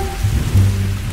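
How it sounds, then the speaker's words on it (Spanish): Heavy rain pours in a dense, continuous hiss with a low rumble underneath, loud and steady throughout the short moment, no voices present. "En Panamá llueve 240 de los 365 días al año."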